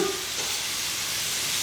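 Italian sausage and purple onion fry in a pan with a loud, continuous sizzle, close and steady throughout with no talking.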